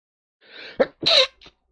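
A close, loud sneeze in a quiet room: a short breathy intake followed by two sharp explosive bursts and a faint trailing puff.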